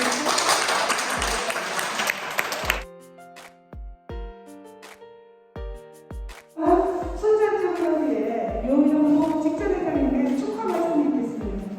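An audience at a Red Cross volunteer association gathering in Suncheon gives a burst of applause that lasts a few seconds and stops abruptly. Spaced single piano notes follow, then a fuller stretch of music.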